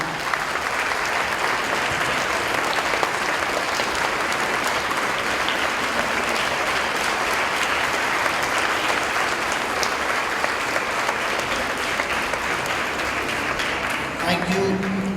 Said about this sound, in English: I need a round of applause, louder applause, and standing ovation for the great job done.